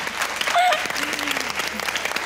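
A studio audience at a Pakistani cricket talk show claps loudly and steadily for a couple of seconds, with a faint voice or whistle rising briefly through the dense applause.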